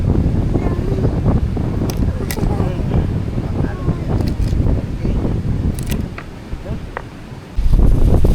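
Strong wind buffets an outdoor cooking spot where pancit canton guisado is being prepared, a loud steady rumbling roar across the whole clip that eases briefly near the end before gusting back hard.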